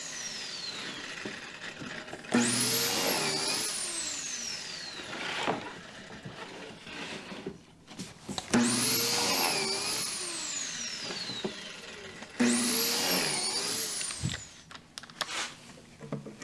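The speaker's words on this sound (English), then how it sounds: "Now I'm going to drill pocket hole screws to attach them to the side panels" A drill drives 1 1/4 inch pocket hole screws into wooden side panels in three separate whining bursts, each winding up and dropping off, with quieter shuffling between them.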